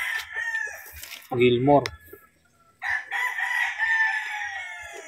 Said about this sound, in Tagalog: Ayan ang brood cock.